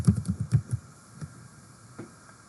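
Rapid keystrokes on a computer keyboard come as a quick burst of close clicks at the start, followed by a few scattered single taps against quiet room tone.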